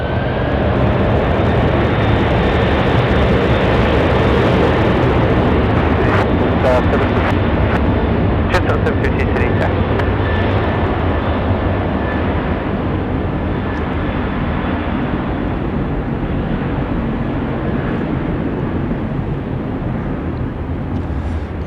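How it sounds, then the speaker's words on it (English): An Airbus A330 roars down the runway on takeoff at Sydney Airport, a loud, sustained broadband jet rumble with a faint whining tone that holds steady throughout. "The A330 cleared for takeoff."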